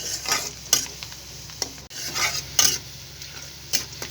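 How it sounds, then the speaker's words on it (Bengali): Onion frying in oil with cardamom and cinnamon, with a soft steady sizzle broken by several sharp spatula scrapes against the pan, close and quiet with no voices. "পেঁয়াজটাকে হালকা ব্রাউন কালার করে আমি একটু ভেজে নেব।"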